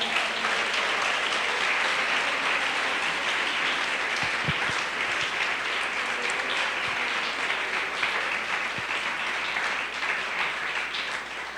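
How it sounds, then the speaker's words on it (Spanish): A church congregation at a Spanish-language service applauds continuously, a broad steady roar of clapping that lasts over eleven seconds, with a few low thumps mixed in. "Aplauso al que se merece la gloria."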